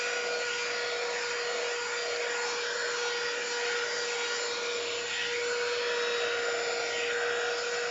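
A hair dryer blows on a Maltese dog's coat at home during grooming, a steady, even whirring drone with a constant tone that runs unbroken throughout, with no voices.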